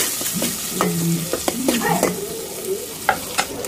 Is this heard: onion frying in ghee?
yes